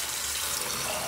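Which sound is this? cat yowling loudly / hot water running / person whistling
hot water running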